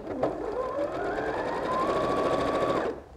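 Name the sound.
sewing machine stitching quilt block fabric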